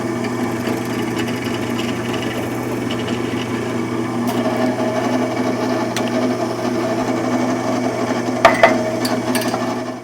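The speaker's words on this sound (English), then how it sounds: "I have changed the speed on the drill press." A drill press bores into a small wooden piece for a wig stand, a steady motor hum with a whirring drone under the bit, and a couple of brief knocks near the end.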